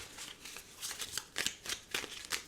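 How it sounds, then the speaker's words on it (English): Tarot cards are drawn one after another from the top of a deck, giving a string of soft, close, papery flicks and slides in an uneven rhythm. "let me get the top 8 cards for Scorpio"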